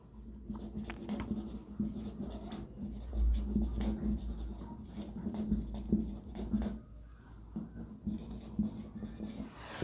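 Chalk or marker scratching across a board during a biology lecture, a busy run of short strokes and taps, close and continuous, with a teacher's voice in the background.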